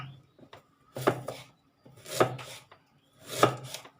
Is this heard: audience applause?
no